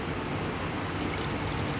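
Water is poured into a mug of shampoo mixture, a steady close rushing splash that stays even and unbroken the whole time, with no speech.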